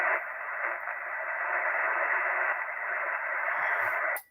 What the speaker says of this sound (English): here we are on 2 meters. Noisy frequency.